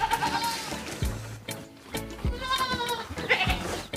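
Goats bleat repeatedly while being fed slightly wilted hedge leaves, several close, loud wavering calls following one another with brief gaps.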